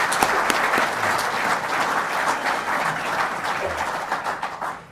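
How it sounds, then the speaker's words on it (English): Steady applause from an audience at an award ceremony at a climate conference, dense clapping holding at an even level throughout before tapering slightly at the end. "that is worth an applause"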